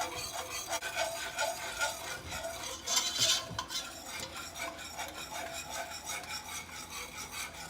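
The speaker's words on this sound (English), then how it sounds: "just want to stir consistently as I'm going in there" A utensil stirs broth into flour in a pot for chicken and dumplings, producing steady rhythmic scraping and rubbing strokes with a faint sizzle underneath, close but fairly quiet and without speech.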